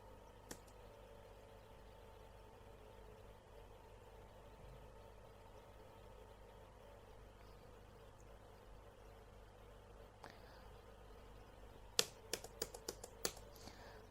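A search keyword is typed on a computer keyboard: after a long stretch of faint room hum, a quick burst of sharp key clicks comes near the end.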